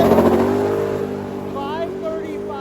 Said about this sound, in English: we have a car that's very special. It's about to make a pass.